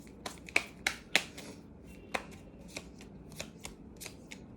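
Tarot cards are shuffled close by in a quiet room: a run of crisp riffles and sharp slaps, the loudest in the first second or so, then lighter taps spaced out.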